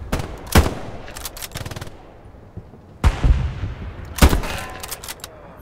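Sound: gunfire in the video game Hell Let Loose

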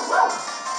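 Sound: dog barking

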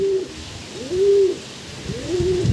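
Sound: pigeons cooing

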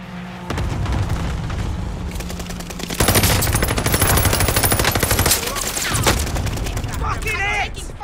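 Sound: gunfire in the video game Call of Duty: Modern Warfare

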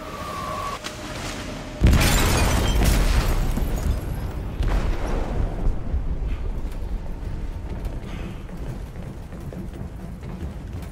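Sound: bomb exploding on a ship in video game Detroit: Become Human

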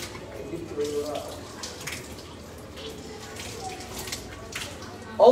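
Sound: water running from tap while washing mouth for ablution

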